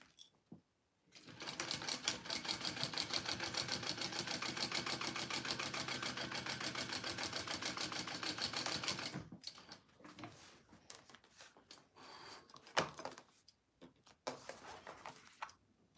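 Long basting run on a domestic sewing machine stitching fabric: a steady, fast mechanical whir and needle clatter for about eight seconds, then stops, followed by scattered handling clicks and rustles.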